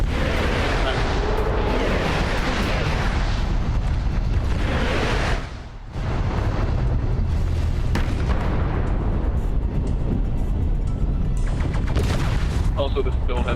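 Heavy machine guns firing in the MechWarrior Online mech combat game, a dense continuous roar of rapid fire and booming impacts with a brief drop-out midway, then the barrage resumes loud and sustained.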